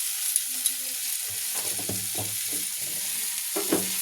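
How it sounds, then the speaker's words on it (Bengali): Ground spices with turmeric and coriander powder sautéed in a pan, a steady sizzle under several scraping strokes of a spatula, close and fairly quiet, with no talking. "এটাকে আমি সুন্দর মতো করে কষিয়ে নেবো"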